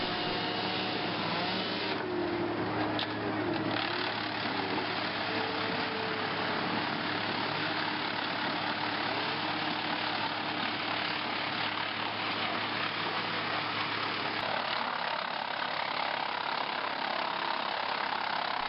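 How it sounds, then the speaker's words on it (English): A wood chipper runs with a steady, loud mechanical roar as bamboo culms and foliage are fed in, the drone continuous and unbroken with slight shifts in tone under the load. "The chipper maintains a steady pull, drawing both timber and foliage with consistent force."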